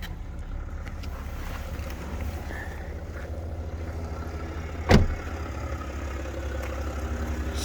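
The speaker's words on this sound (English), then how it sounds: "Such a smooth engine. I love these engines, these 3-litre turbo diesels from BMW." A BMW 530d M Sport's 3-litre turbo diesel idles with a steady, low, smooth hum, broken once midway by a short sharp click or knock.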